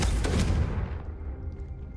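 Confringo blasting spell in a Harry Potter video game, a single loud explosive boom that quickly fades into a low rumbling tail, alone without speech.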